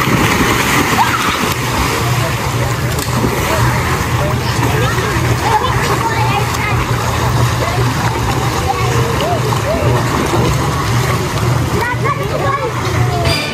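Loud, continuous splashing and sloshing of seawater as people jump in to swim, with the churning water close by and voices talking and calling throughout.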